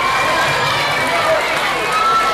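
Audience applause at a school presentation, Collège Adventiste de Nyom in Yaoundé: a dense, steady wash of clapping hands that stays loud and unbroken throughout.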